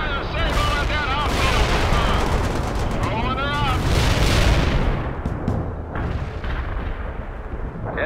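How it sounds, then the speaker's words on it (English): Heavy artillery fire in the strategy game World in Conflict, loud booming blasts and rumbling over a continuous battle din, with voices calling out in between. "Heavy artillery."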